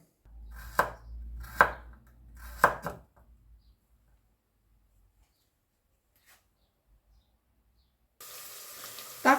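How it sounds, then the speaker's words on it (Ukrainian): Three crisp knife chops strike a board at an even pace as a carrot is finely chopped, followed by near silence and then a burst of running water. "І так, тепер дрібненько нарізаю"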